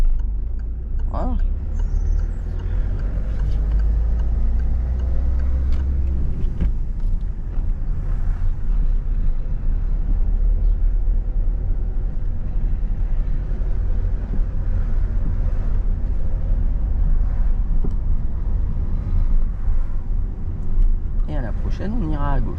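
Car pulling away during a driving lesson, a low steady engine rumble with cabin noise throughout, close, with people talking over it.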